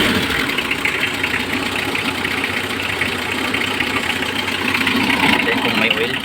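A vehicle engine idling steadily after a hard start, a loud continuous rumble with an even low throb and no change in pace for the whole stretch, no voices over it.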